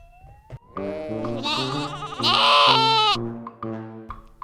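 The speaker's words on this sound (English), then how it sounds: "The sheep says, bah!" Sheep bleats, a series of loud, wavering nasal calls that rise and fall, sounding close and alone with no talk over them.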